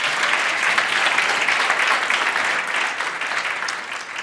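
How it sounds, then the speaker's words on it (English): Audience applause at an impact report launch event, steady sustained hand clapping from a seated crowd filling the room, with no talk over it. "Another round of applause, please,"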